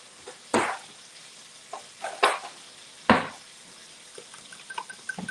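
A fork stirs Mississippi pot roast ingredients in a pot, giving a few sharp scraping clinks spaced a second or so apart with softer wet shuffling between, close and fairly quiet, no talking.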